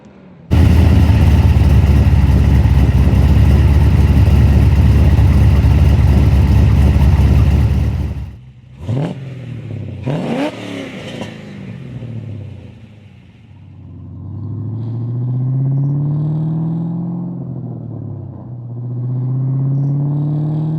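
A loud, steady V8 exhaust drone from an LS-swapped BMW with a resonator fitted holds for several seconds, then breaks into a few sharp revs and settles into a lower, wavering hum between gear changes.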